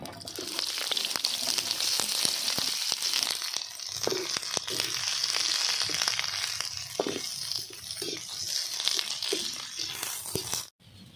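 Curry leaves and onions crackle and sizzle steadily in hot oil in a pan, with a dense, continuous spitting hiss that carries on throughout before cutting off abruptly near the end, no voices over it.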